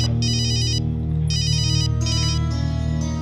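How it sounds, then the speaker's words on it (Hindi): A mobile phone ringtone plays indoors in a domestic drama scene, a bright electronic melody in repeated bursts with short pauses, loud and clear over a low background hum. "अच्छा सजाद, जरा आप अपने फोन से असद को फोन लगा के देखिए"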